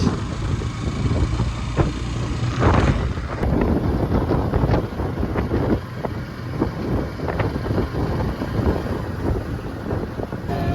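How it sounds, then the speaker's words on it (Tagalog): Strong wind buffeting the microphone at a boat port in Boracay, loud rumbling gusts with an engine or vehicle droning underneath, continuous throughout. "Lakas ng hangin guys."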